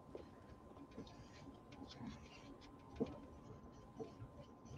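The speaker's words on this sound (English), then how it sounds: "Can you guys hear the train in the background?" A train rumbles faintly in the distance, heard through an open window as a low, steady rolling drone with occasional soft clanks from the rail cars, quiet throughout.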